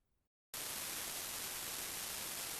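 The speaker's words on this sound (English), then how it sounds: "And this output generates granular noise that sounds like this." After a brief quiet gap, the granular noise output of a Befaco Noise Plethora synthesizer module in VCV Rack switches on abruptly and continues as a dense, even hiss with a slightly grainy texture.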